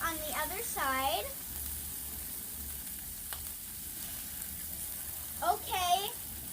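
Ribeye steaks sizzling on a Blackstone griddle, a steady, moderate hiss running throughout, with short whistle-like sounds near the start and end.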